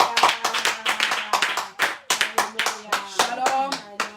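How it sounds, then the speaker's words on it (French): Church congregation clapping in rhythmic bursts of hand claps, close and lively, with some voices or singing mixed underneath during a worship service. "Acclamons le roi."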